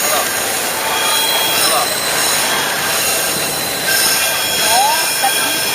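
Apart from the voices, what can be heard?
tourist train rounding a curve, wheels squealing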